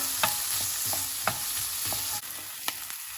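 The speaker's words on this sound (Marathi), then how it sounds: "तेल गरम जाल म्हणटरी पियाव घालया आमी स्लायस मातशें स्लायस करून।" Sliced onions fry in hot oil in a pan, a steady close sizzle broken by a few sharp clicks of stirring, with no talking.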